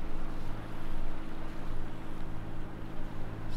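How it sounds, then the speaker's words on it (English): A sailboat motoring under engine on the Menai Strait in calm, windless conditions, giving a steady low engine drone with a broad rushing wash of water and air, continuous and fairly loud, with no talk. "Just going to motor all the way."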